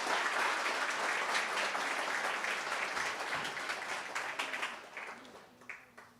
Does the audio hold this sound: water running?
no